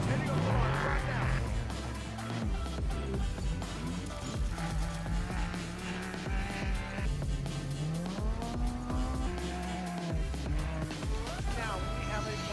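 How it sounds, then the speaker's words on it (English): Race trucks leave the start line at the Baja 500 off-road race, engines revving and rising in pitch. The roar runs continuously under loud, busy commentary and background sound. "the first 2 cars heading off the line right now"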